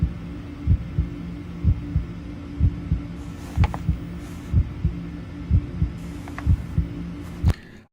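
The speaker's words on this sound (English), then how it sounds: "This heartbeat is a part of the video" A steady thumping heartbeat sound effect over a low hum, with regular beats about every second, loud and close, with occasional faint higher clicks in the background and no talk.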